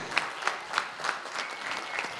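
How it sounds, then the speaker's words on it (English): Short burst of audience applause at an evening entrepreneurship event, a cluster of hands clapping with a few sharper individual claps standing out, fairly near and moderately loud. "Big round of applause, ladies and gentlemen."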